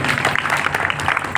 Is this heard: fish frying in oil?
no